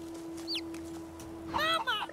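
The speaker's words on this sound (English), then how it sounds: "The boiling chick is following us around." In Divinity: Original Sin 2, a boiling chick gives a quick high chirp and then a burst of close clucking over a steady low game hum.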